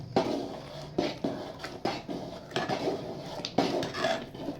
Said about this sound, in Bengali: ঢেলে দেওয়া হলো ফুটন্ত খিচুড়ির মধ্যে পুরো আর খুব সুন্দর করে নাড়িয়ে মিশিয়ে নিতে হবে